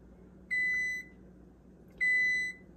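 Two identical short electronic beeps from an oven that has reached 375 degrees, each about half a second long, spaced a second and a half apart, clear and alone in a quiet kitchen.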